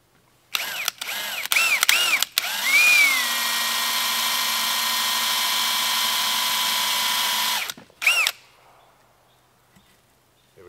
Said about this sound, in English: I've got a drill where we're going to drill a little hole